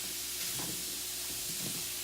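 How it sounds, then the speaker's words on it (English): Thin apple slices sizzling in a skillet over medium-high heat, a steady soft hiss with faint crackles running throughout, close and fairly quiet. "It is on medium high, so you should hear a little bit of sizzling."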